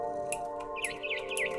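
Bird chirps in the video game What Remains of Edith Finch, a few quick, high twittering calls over a steady droning hum, with faint ticking clicks in between.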